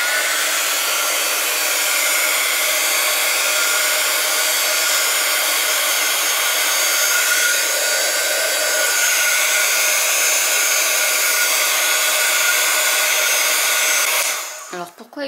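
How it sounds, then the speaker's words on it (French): A heat gun warms a candle container, blowing a loud, steady whooshing hum close by for about fourteen seconds before cutting off with a few small clicks and knocks. "On va également réchauffer le récipient avec le heat gun."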